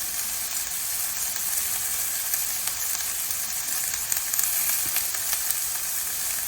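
Onions with bacon and pork cubes frying in a pan over medium-high heat for an Italian pork stew, giving a steady, moderately loud crackling sizzle with small pops and no voices.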